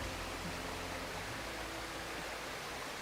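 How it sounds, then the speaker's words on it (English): Small waterfall on a creek pouring steadily, a dense, even broadband rush of falling water that stays constant and close throughout with no voices. "I'm out at my favorite little creek, at my favorite little waterfall."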